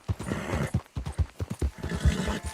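Horse hooves clip-clopping in Red Dead Redemption 2, a heavy, tank-like mount, in a steady run of close, loud hoofbeats with a brief whinny mixed in.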